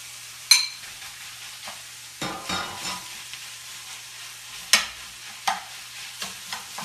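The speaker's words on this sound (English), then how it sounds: "so I'm going to go ahead and add the beef in here." Ground beef hits a pan of translucent onions for a low-carb spaghetti marinara, giving sharp sizzling bursts over a soft steady crackle, with quieter spatters and stirring scrapes between them.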